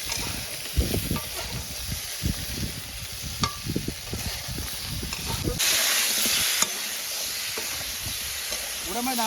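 Food frying and sizzling in a pan over a village cooking fire, with a steady hiss, scraping stirs and occasional knocks of the utensil against the pan, a brief louder steam burst partway through.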